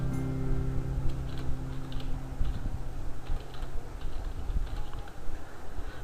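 Rapid, light keystrokes patter on a computer keyboard at a steady pace over a constant low electrical hum, with no talking.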